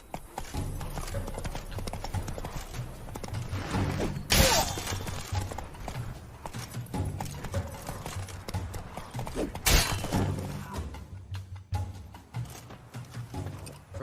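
The horse Roach galloping in The Witcher 3, a fast rhythmic clip-clop of hooves running steadily throughout, with a couple of sharp loud bursts over it.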